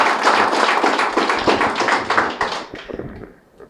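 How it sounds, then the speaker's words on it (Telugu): A workshop audience claps firmly for a team, dense and loud applause that carries on for a few seconds before thinning out and fading. "సంధ్యమ్మ అండ్ టీంకి ఒకసారి గట్టి క్లాప్ చేద్దాము"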